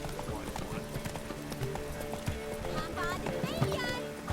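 Roach, a horse in the video game The Witcher 3, gallops with quick, steady hoofbeats and a whinny, all under game music and character voices.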